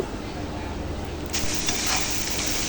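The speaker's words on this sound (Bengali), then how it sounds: "এখন হচ্ছে বেগুনির চপগুলো ভেজে নিতেছি" Eggplant fritters (beguni) fry in hot oil, giving a loud, continuous close-up sizzle with occasional stirring.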